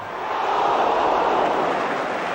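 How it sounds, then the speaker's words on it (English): A football crowd at a 1974 City match lets out a loud, sustained ooh after a shot goes just wide, a broad wash of massed voices swelling and holding steady for a couple of seconds. "Well might the crowd ooh."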